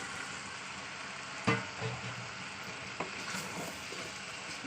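Ridge gourd stirred into a sizzling spice masala in a home kitchen, with a soft steady fry broken by a few sharp utensil scrapes and knocks, close and fairly quiet, with no talking.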